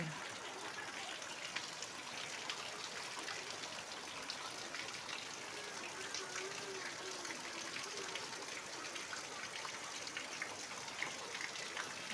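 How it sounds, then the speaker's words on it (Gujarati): Heavy rain falls without a break in Banaskantha. The downpour is a continuous, even wash of patter and gushing water, fairly faint and distant throughout. "ત્રણ દિવસથી વરસાદ ચાલુ છે"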